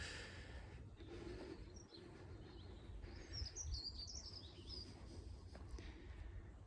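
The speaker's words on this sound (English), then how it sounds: "how quiet it is, apart from a few birds chirping" Small birds chirp and call intermittently in a quiet outdoor holiday park setting at Kiln Park in Tenby, bright tweets scattered over a soft steady background hush, some at middle distance.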